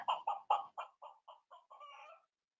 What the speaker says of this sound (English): Katie, I'll give you a cluck.